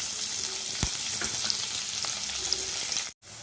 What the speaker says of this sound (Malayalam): ചൂടായ പാനിലേക്ക് നമുക്ക് ഉള്ളിയും കറിവേപ്പിലയും ഇട്ട് വഴറ്റി കൊടുക്കാം.